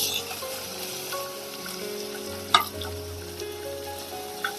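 Tomatoes, chillies and curry leaves sizzle in a pan for Gujarati potato bhaji, a steady low frying crackle with a sharp spike as something is added and a few light stirring knocks.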